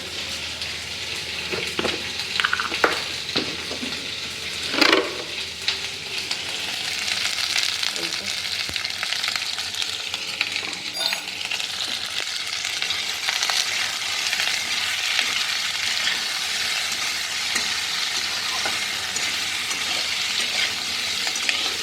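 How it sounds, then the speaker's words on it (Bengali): Paneer and vegetables coated in ghee sautéing over a high gas flame, a loud, continuous sizzle with a few utensil clinks and stirring scrapes early on, then steady frying. "গ্যাসের ফ্লেমটা হাই থাকবে, কারণ এটা সেদ্ধ করছি না, জাস্ট একটু সতে করে নেব"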